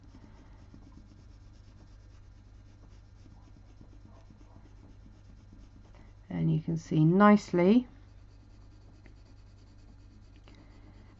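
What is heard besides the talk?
pencil shading lightly on paper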